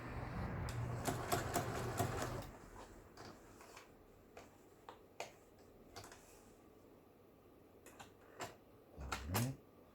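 A repaired Janome home sewing machine runs a zigzag stitch in a short, fast mechanical whirr for about two seconds, followed by scattered quiet clicks and knocks of the machine being handled.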